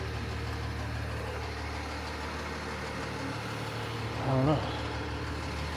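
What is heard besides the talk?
fire truck engine idling outside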